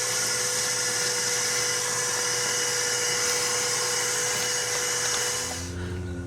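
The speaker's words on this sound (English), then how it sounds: "I'm going to vacuum all that out" A vacuum runs steadily to suck debris out of the intake valley of a 318 Mopar engine during a 2-barrel to 4-barrel intake swap, a loud continuous whine that keeps going until its pitch dips near the end.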